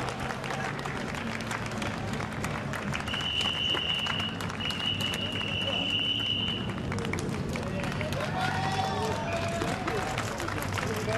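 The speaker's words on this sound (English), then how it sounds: "But Reiter Engineering receive a round of applause" Applause and crowd noise for the Reiter Engineering crew at a 2013 FIA GT1 race in Belgium, steady and broad across the whole stretch, with a thin high whine drifting through the middle and a commentator talking over it.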